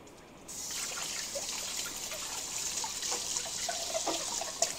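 Water trickles steadily from a kitchen tap into a sink while something is being washed; a continuous close splashing flow that starts after a brief quiet moment and holds at an even level.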